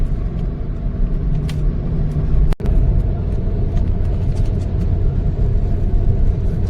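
A car cruises along a highway between Shirdi and Bangalore near Hospet, its steady low road rumble and engine drone filling the clip close and loud, with a brief dropout midway.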